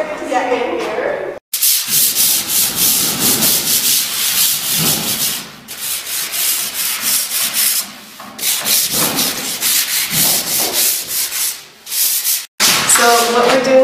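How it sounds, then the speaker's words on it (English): Sandpaper is rubbed by hand over uneven interior house walls at a building site, a loud, close, continuous rasping scrape in long strokes broken by brief pauses. "we are taking sandpaper and just brushing away all of these, whatever is uneven"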